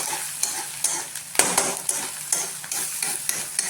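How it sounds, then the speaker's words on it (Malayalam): A spoon stirs and scrapes food around a sizzling pan for egg rice, rhythmic knocks repeating roughly every half second over a steady frying hiss, close and fairly loud with no talk. "ഇത് നല്ലപോലെ ഒന്ന് മിക്സാക്കി"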